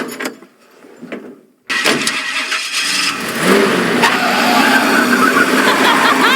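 A car in the Life is Strange video game cranks and catches after a brief quiet pause, then its engine revs loudly and steadily as it pulls away, close and dominant with no talk over it.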